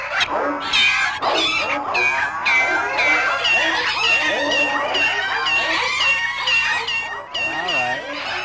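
A rapid, overlapping chorus of cat meows and yowls plays continuously, loud and close, with a few barking and clucking sounds mixed in.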